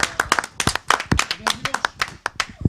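A small group applauds Greg at a French live charity stream, giving irregular, close hand claps at a brisk uneven pace while people talk over them.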